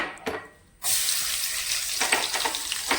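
Crushed garlic and cumin dropped into hot oil in a pan, a brief quiet moment and then a sudden loud sizzle that keeps crackling steadily up close, with nobody talking.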